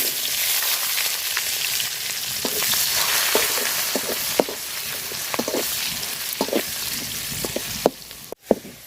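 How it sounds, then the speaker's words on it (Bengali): Chopped onion and green chili fry in hot oil in a Bengali kitchen, giving a loud, continuous sizzle with scattered pops and stirring clicks, ending in a few sharper knocks. "পেঁয়াজটা আর মরিচটা আমি লাল লাল করে ভাজা নিচ্ছি"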